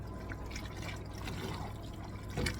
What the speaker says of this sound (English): I'm going to give it a little more beef broth.